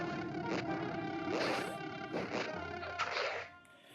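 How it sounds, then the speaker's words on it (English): A golden bee buzzes in the video game Zelda: A Link Between Worlds, a steady droning hum with several louder swells, fading out at the end. "Caught a golden bee. It's so bright and buzzy."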